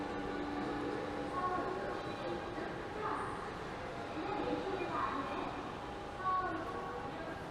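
A Seoul Subway Line 2 train arrives at a station platform, its steady rumble and hum rising and easing across the whole stretch amid busy station ambience, with voices audible underneath.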